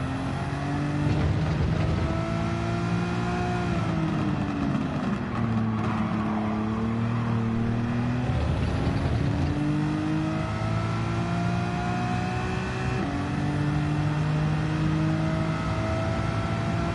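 A racing car engine in Gran Turismo 7 drones continuously, its exhaust note climbing and dropping with gear changes, loud and steady throughout with no voices.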